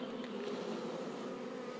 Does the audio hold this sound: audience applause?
no